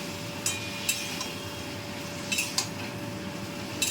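Ginger paste and ginger water go into a pan of Bengali neem curry, with a few sharp metal clinks of a spoon against the pan spaced across a steady low kitchen hum.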